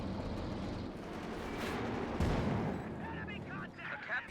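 Artillery bombardment in Company of Heroes 2, an OKW versus USF match: a dense, continuous rumble of shell impacts and gunfire, with one heavier blast near the middle, steady and fairly loud throughout.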